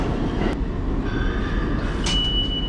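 A New York subway train rumbles steadily, with metallic squeals and a brief high screech rising over the continuous roar.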